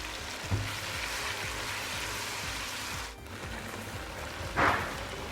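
Chicken sizzling steadily in hot oil at close range, with a mint and coriander paste added partway through, bringing a brief sharp hiss; no voices.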